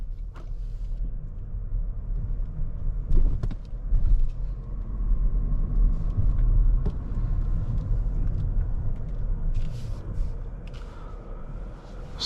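Inside a 2024 Toyota Crown Platinum on the move, a low road rumble and engine hum fill the cabin, broken by a few faint creaks and soft clicks, with no talk.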